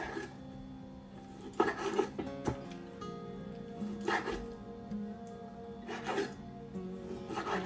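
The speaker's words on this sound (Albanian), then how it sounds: "Të vazhdojmë ta presim filetën në kubik." A knife cuts a chicken fillet into cubes on a cutting board, with a few scattered taps and rasping strokes spread over several seconds against a quiet kitchen background.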